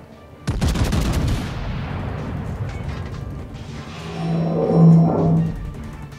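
A loud burst of gunfire and explosive HE shell impacts in a video game, a sharp onset followed by a sustained rumbling roar that slowly fades, with a droning engine hum rising toward the end.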